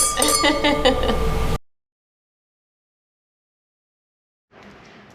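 Wine glasses clinking together in a toast during a Napa Valley wine tasting: a burst of bright ringing chimes under a loud cheer, then silence and faint room noise.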